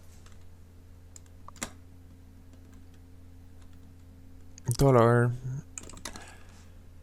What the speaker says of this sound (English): And here I'm gonna type